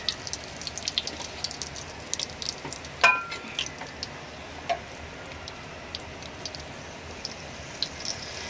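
Asafoetida dropped into hot oil with bay leaves in a pan, a faint crackling sizzle with scattered pops and one sharper clink of a utensil.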